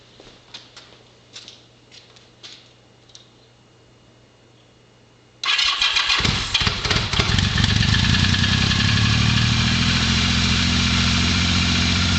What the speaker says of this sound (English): I'm just going to touch the starter, and it should start right up and high idle on that full enrichment position.